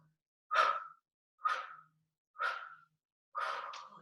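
Slow, controlled breathing during a Pilates balance exercise: four separate breaths close to the microphone, evenly spaced, each a soft rush of air that rises and fades, with silence between them.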